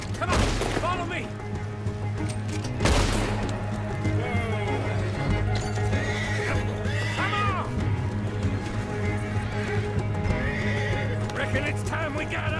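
Horses whinny and neigh over steady hoofbeats in Red Dead Redemption 2, with scattered gunshots and ambient game noise layered throughout; voices briefly break in early on.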